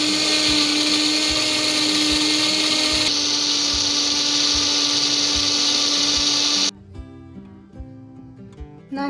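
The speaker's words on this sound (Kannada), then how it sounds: "ಇದಕ್ಕೀಗ ಉಪ್ಪು ನೀರನ್ನು ಹಾಕಿ ನಾವು ನುಣ್ಣಗೆ ರುಬ್ಬಿಕೊಳ್ಳೋಣ." A mixer grinder runs at full speed, grinding masala with boiled and cooled salt water for a mango pickle, a loud high whine with a steady motor drone that cuts off near the end, leaving faint clinks and handling.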